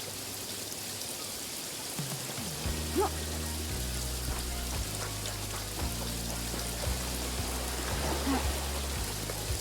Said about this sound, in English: Oh, we have rain.